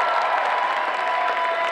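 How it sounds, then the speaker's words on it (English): Dense, steady applause from a cosplay contest audience at a comic convention, a full crowd clapping continuously and loudly without a break. "let's have one more final round of applause for all of our contestants"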